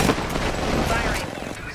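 Gunfire in a video game, heard as a dense, loud, continuous burst of rapid shots that fills the whole short stretch. A voice talks over it.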